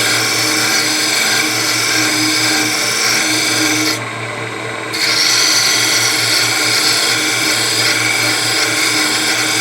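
A wood lathe spins steadily while a turning tool cuts beads into a wooden spindle, giving a continuous loud scraping hum with a low steady drone; the cutting noise briefly drops away near the middle before resuming.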